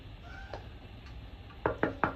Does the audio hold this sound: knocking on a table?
yes